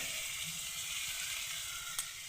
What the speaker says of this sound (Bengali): খুব সুন্দরভাবে আমি ভেজে নিয়েছি এবার হলুদ দিলাম